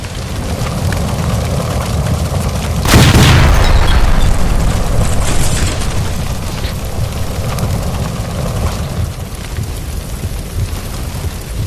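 A gas line explosion in L.A. Noire erupts as one loud, broad boom partway through, then rumbles and fades into a steady roaring, rain-like wash of noise that keeps going after the blast.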